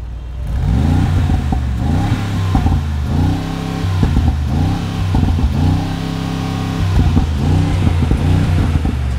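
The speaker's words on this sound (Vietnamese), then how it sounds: "cùng nghe tiếng ống xả của MG nhé" The exhaust of a 2020 Mercedes G63 rumbles loudly at idle, then gets repeated revs with rising engine pitch in a regular rhythm. The sound is close-up and no one talks over it.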